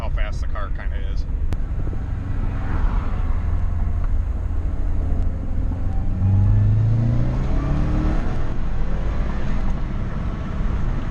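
Modified 2011 Subaru WRX running on E85 accelerating hard, heard from inside as a loud, rising engine drone through the gears over road rumble, with someone talking over it.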